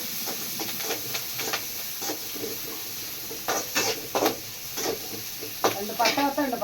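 Onions and green chilies fry in a pan with a soft, steady sizzle, broken by intermittent scraping and stirring strokes of a utensil against the metal, the stirring growing louder toward the end.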